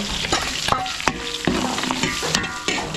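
Garlic and onions sautéing in a pan for a catering meal produce a loud, dense sizzle, punctuated by sharp clinks and scrapes of a utensil stirring against the pan.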